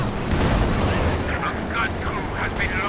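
Artillery barrage in Company of Heroes 2, a continuous rumbling wash of heavy battle noise with scattered sharp impacts and distant booms layered under the din.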